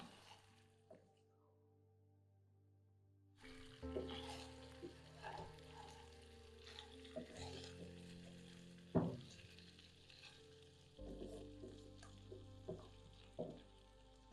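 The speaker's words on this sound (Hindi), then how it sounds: "मिक्स करेंगे और फिर से 1 मिनट के लिए मीडियम फ्लेम पर फ्राई करेंगे।" Chicken 65 frying on medium flame in a pan, a quiet sizzle with stirring scrapes and clinks that rises after a brief lull, faint and close.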